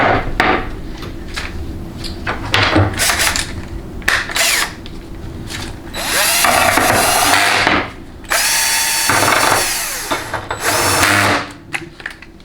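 Power tool runs bolts into a Ford 6R140 transmission valve body during final assembly, with several bursts of whirring and ratcheting between short pauses, close and fairly loud with no talk.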